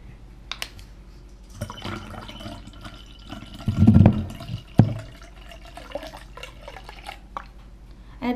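Vinegar trickles and splashes briefly into beet juice in a container, with a louder gurgling pour in the middle and quiet handling noises around it.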